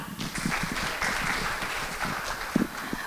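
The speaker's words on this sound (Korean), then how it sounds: "박수로 청해 듣겠습니다." Audience applause welcoming a speaker at a Korean economics lecture on unicorn startups, a fairly soft, steady patter of clapping from a moderate crowd with a couple of sharper nearby claps.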